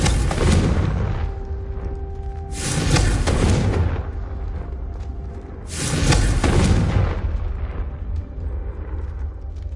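Confringo blasting-spell explosions in Hogwarts Legacy: three loud, heavy booms spaced a few seconds apart, each bursting sharply and then rumbling away into a sustained roar.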